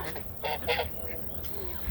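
Geese on a farm honk in a few short, loud nasal blasts close by, two or three calls in quick succession over quiet outdoor background.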